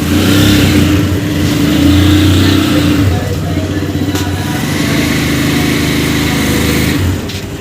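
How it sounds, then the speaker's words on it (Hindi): Car engine running as the vehicle is driven out of a house, a loud, steady idle and low rumble that shifts slightly in pitch, then eases off near the end. "पापा जान जी गाड़ी बाहर निकाल रहे हैं, निकल गई है गाड़ी बाहर।"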